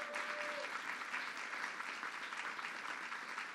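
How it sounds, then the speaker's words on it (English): Steady applause fills a room at a bill signing on LGBTQ rights legislation, a dense wash of many hands clapping that neither builds nor fades over a few seconds. "Let's give her a big round of applause."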